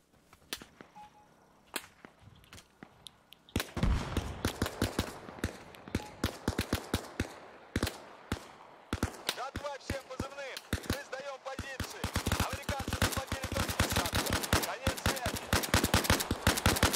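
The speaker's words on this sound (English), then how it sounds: "I will say the guns sound really good in this game" Dense gunfire in Arma Reforger: scattered single rifle shots at first, then sustained bursts and rapid automatic fire building in intensity, sharp cracks at varied distances with occasional voices under the shooting.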